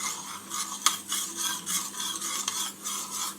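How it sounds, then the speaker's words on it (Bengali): A spoon stirs a summer drink with lemon juice in a glass, giving soft, rhythmic scraping and swishing strokes at close range with a light clink partway through, no voices. "ভালো করে মিক্স করে নেব।"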